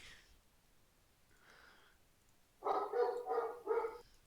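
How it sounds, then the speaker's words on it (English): A dog barks about four times in a quick, fairly close burst, preceded by faint quieter sounds. "Dog."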